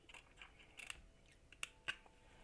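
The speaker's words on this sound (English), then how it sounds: "we're going to cut this straight" Scissors cutting straight through craft material for a coffee-themed key chain, a handful of soft, close snips at uneven intervals, very quiet with no talk.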